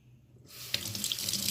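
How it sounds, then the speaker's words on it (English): A lemon rinsed under a running kitchen tap: water gushes on abruptly and keeps splashing steadily, close and fairly quiet, with no talking. "I wash the lemon outside because I'm going to be eating the outside of it."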